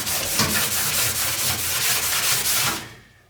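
A Scotch-Brite pad scrubs the bare metal floor of an empty GM car trunk being prepped for splatter paint, making steady, close abrasive rubbing in quick back-and-forth strokes for a few seconds before it stops.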